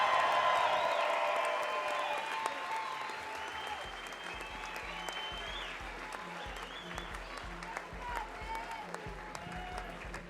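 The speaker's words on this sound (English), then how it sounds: "Give these guys a big round of applause." A crowd at a charity boxing event applauds and cheers the fighters, dense clapping with scattered whoops starting loud and tapering slightly, while a voice talks over it on a public address system.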